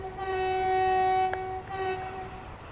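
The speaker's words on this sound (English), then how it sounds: "We should be seeing that train coming our way pretty soon." Train sounding a long sustained horn blast as it approaches, two tonal notes holding steady, a short break, then a final blast, over low rumbling of the rail cars.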